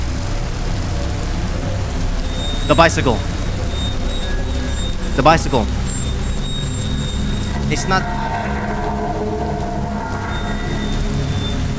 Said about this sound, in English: What are you doing out here in the pouring rain at this time?